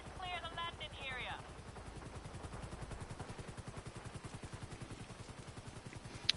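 A luxury helicopter arrives in the video game GTA Online, its rotor thumping in a steady, rapid pulse that builds after a short burst of voice and continues at moderate volume to the end.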